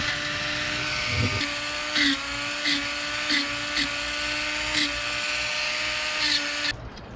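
Dremel rotary tool carving a wood spirit face into wood, a steady high-pitched whine held throughout with brief dips and surges as the bit bites, cutting off at the very end.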